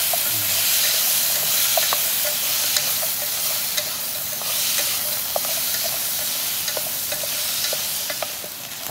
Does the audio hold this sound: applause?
no